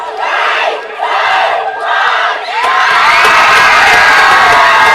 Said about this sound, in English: The crowd are thrilled.